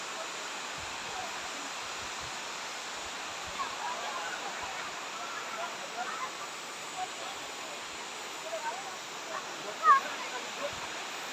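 Can-umantad Falls in Candijay, Bohol, rushing as a broad, steady roar of falling water, constant and close, with people talking faintly underneath.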